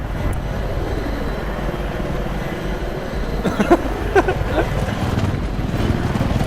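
Helicopter and aircraft noise in the video game Battlefield 3, a steady engine drone across the whole stretch with brief thumps and bursts in the middle, fairly loud and with no talk over it.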